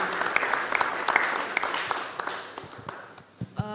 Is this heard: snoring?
no